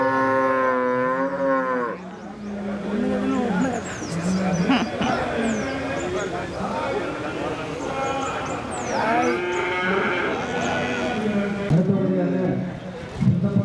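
Cattle low repeatedly at a reopened village livestock market, several long moos near and loud amid crowd chatter and people talking.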